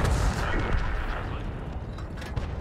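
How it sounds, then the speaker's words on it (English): A Type 64 tank in a video game blind-fires a shot at a position: a booming cannon report up front, then a rumbling, noisy battle din continues under faint talk. "Blind firing the position."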